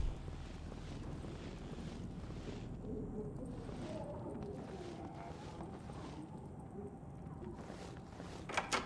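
Robot patrol passing in Generation Zero, heard as a continuous low mechanical rumble and whooshing drone at mid distance, with faint speech mixed in.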